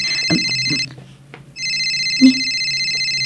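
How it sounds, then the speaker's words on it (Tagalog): A loud, close cellphone ringtone gives two sustained melodic electronic bursts with a short silence between them, and faint voice sounds come in underneath. "Agriring ti cellphone ko."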